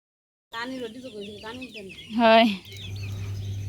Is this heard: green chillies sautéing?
no